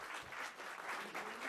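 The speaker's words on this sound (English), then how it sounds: "Let's all give Dr. Kazoku Markoulis a round of applause." Applause from a conference audience at the Woodrow Wilson Center after a talk on Cyprus in the Eastern Mediterranean, a steady patter of many hands filling the room for a short burst with no voices.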